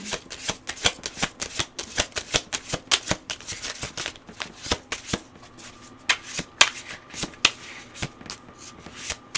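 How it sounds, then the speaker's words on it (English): Oracle cards are shuffled and pulled in a rapid run of crisp, close riffling snaps and flicks that come in uneven bursts throughout, with no talking. "I'm going to pull one more of these cards"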